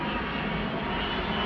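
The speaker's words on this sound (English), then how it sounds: "I live right near Heathrow Airport, so there's planes going over every 2 minutes." A low-flying airliner passes overhead near Heathrow Airport, its engine roar a loud, steady broadband rumble that fills the whole clip with no voices.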